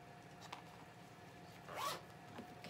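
A quiet zipper pull on a purse's matching pouch, one short rasping zip near the middle with a few faint clicks around it over low room hiss.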